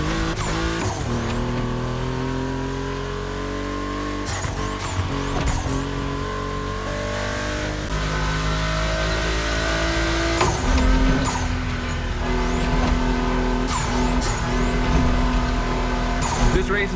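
A Porsche 965 Turbo upgraded to over 400 horsepower races in The Crew Motorfest video game, its engine revving up and down through repeated rising gear sweeps with tire squeal, loud and close, while a voice talks over it.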